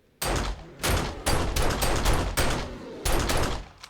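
Repeated loud gunshots in the survival game 7 Days to Die, fired in bursts with brief gaps between them, close and punchy, with no talking.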